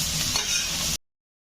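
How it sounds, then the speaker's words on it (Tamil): Onions and green chilies sauté in a hot kadai, giving a steady broadband sizzle with faint stirring scrapes for about a second before cutting to silence. "இந்த அளவுக்கு வெங்காயம், பச்சை மிளகா வதங்கி இருக்கு"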